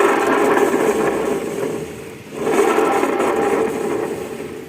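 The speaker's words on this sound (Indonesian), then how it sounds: "ini kendalanya ini suara CVT-nya tuh kasar ya guys ya" A rough-running CVT on a carburetted Yamaha Xeon scooter, giving a continuous grinding, whirring drone that dips briefly midway and then resumes, close and steady with no talking.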